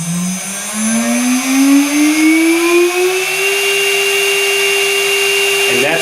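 A Redline router on an Onefinity Elite Gen 2 Journeyman CNC spins up to about 24,000 RPM, its steady high whine climbing in pitch over the first few seconds, then holding loud and constant with a slight change near the end.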